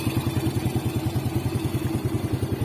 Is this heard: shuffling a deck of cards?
no